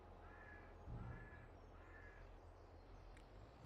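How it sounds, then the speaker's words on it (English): Crows caw at night in the Farming Simulator 22 game, a few drawn-out calls spread across the clip over a steady low rumble, faint and somewhat distant with no talking. "The quiet, the crows, the crickets."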